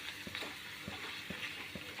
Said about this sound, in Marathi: तर आता ना इथे वेपर्स तळून घेते.